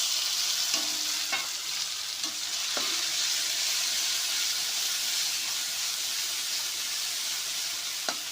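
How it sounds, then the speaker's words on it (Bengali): Spices and a paste of green chili, ginger, poppy seed, white mustard and cumin fry in hot oil for a pointed gourd dish, making a continuous hissing sizzle with a few brief stirring scrapes. "আর মশলাগুলোও দিয়ে দেবো একটু ভাজা হোক"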